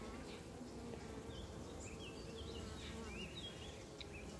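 A quiet, continuous drone of honey bees buzzing, with individual bees droning past nearby over a low steady hum.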